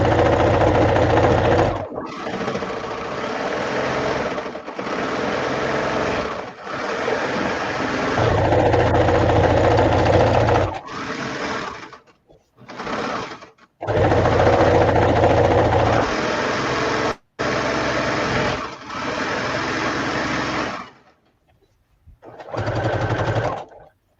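A serger runs loud and close on a table in long sustained stretches, stopping briefly several times and restarting, its steady mechanical whir continuing for over twenty seconds.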